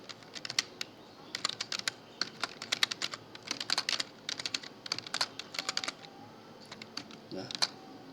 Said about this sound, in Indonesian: Sekarang kita ketik saja tipe.